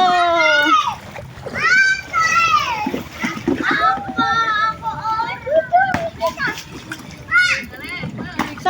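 Children play in a small swimming pool at home, with water splashing under their constant excited shouting and chatter, close and lively.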